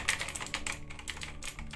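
Rapid clacking of keys on a computer keyboard, an irregular burst of close, crisp typing strokes.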